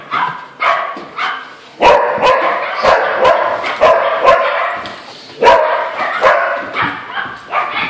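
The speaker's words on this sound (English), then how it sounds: "We'll just leave the dogs alone for now." Several dogs bark in repeated bursts during a house walkthrough, loud and close with irregular rhythm, while a person briefly speaks.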